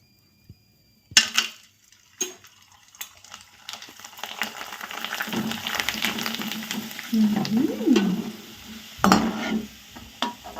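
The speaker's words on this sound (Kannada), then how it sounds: "ಎಣ್ಣೆ ಜಾಸ್ತಿ ಬಿಸಿ ಆಯಿತು" Overheated oil sizzles in a pan, starting after a few sharp clatters and growing into a steady frying hiss with utensil clinks and scrapes, and a short tonal squeal partway through.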